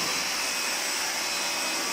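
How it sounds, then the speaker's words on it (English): A car's air conditioning being cleaned with a machine during a mini service, giving off a loud, steady, broadband whooshing roar like a vacuum or blower that runs without a break. "Kasalukuyan pong naglilinis ngayon ng aircon."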